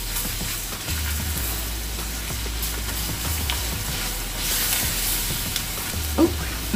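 Beef paste being stirred into a sizzling seafood gravy of shrimp and crawfish, with a steady frying hiss and soft scraping stir sounds throughout, close and moderately loud with no talking.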